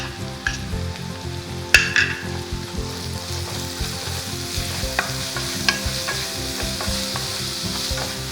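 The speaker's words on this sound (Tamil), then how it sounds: "இப்போ இந்த வெங்காயத்தையும் நல்லா வதக்கிக்கோங்க." Chopped onion sautéing in a pan with oil while being made into vegetable Manchurian: a steady close sizzle with occasional stirring scrapes and small clinks, and one sharp utensil knock near the start.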